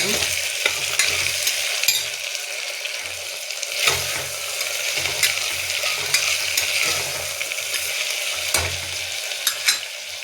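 Chopped tomato and green peas being mixed and fried in a pan for tomato rice bath, with a continuous sizzle under repeated scraping spatula strokes, close and steady.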